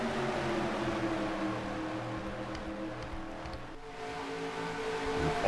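Engine drone from a field of stock cars at the green-flag start of the Washington 150, a NOFSRL Herr's Dash Series race in a racing video game, with layered steady engine tones holding loud and continuous throughout.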